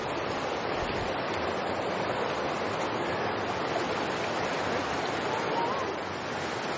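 Mountain creek water at Rock Creek Falls rushes in a steady, dense broadband roar, close and loud, continuing without pause until it eases slightly near the end.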